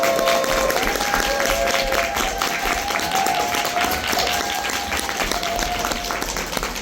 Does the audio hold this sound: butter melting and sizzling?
no